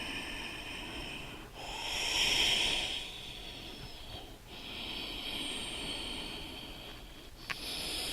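Deep, slow yoga breaths during a seated twist: long airy hisses of inhale and exhale rise and fade, close and clear, with no talking.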